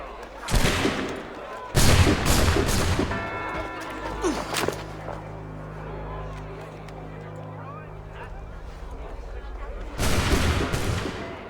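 Heavy cannon volley in Assassin's Creed III: loud booming blasts burst out in quick succession, then fade into a long rolling rumble before another powerful volley erupts near the end, with voices faintly underneath.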